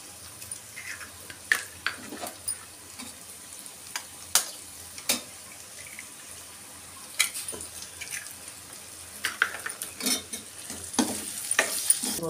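Three eggs frying in hot oil in a pan, a steady low crackle broken by sharp clacks and scrapes of a spatula or utensil against the pan, no talking.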